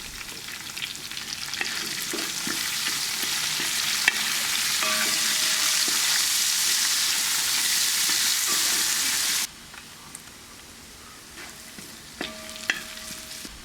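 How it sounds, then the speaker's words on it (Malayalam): Thinly sliced onions sauté in hot oil for a Kerala pork roast, giving a loud, steady sizzle with occasional stirring clinks. The sizzle drops sharply to a quieter hiss partway through, and no one speaks. "കനം കുറച്ച് അരിഞ്ഞു വെച്ചിരിക്കുന്ന സവാള ഇട്ട് വഴറ്റുക"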